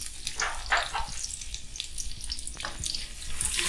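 Onion pieces fry lightly in oil in a pan as keema stuffing for murtabak begins, giving a steady, close, watery sizzle and crackle that runs the whole time, with no talking.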